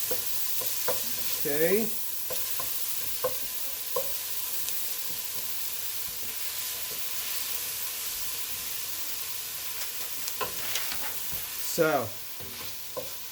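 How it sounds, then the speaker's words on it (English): Steady sizzling of food frying in a hot pan, a continuous crackling hiss with scattered utensil clinks and a brief spoken remark. "Okay, you hear that sizzle. This is what we want to hear."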